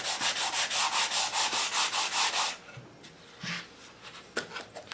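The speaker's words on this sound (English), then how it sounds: "I'm just doing everything I can reach with the sanding block first." Rhythmic back-and-forth rasp of a sanding block on an English walnut gunstock with 120-grit paper, a dozen even strokes, then quieter scattered scrapes and light taps.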